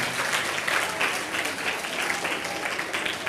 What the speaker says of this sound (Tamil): நல்லா கைத்தட்டி பாராட்டலாமே.